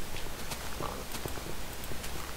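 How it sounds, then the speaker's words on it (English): Footsteps underground in the video game Minecraft, a faint, irregular patter of steps muffled under a steady noisy background. "I hear lots and lots of footsteps underground."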